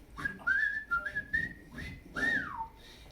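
A person whistles a short, lilting tune up close, with sustained notes, a brief pause, and a final falling glide.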